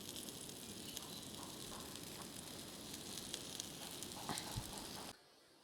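Sweet potato cutlets shallow fry in ghee in a pan, giving a soft, steady sizzle with faint crackles and pops that runs for about five seconds and then stops abruptly.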